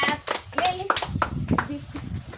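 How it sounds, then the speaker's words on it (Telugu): A group of people clap hard at a village number-guessing game, a run of sharp claps at uneven intervals mixed with overlapping chatter and children's voices close by. "క్లాప్స్ కొట్టండి గట్టిగా"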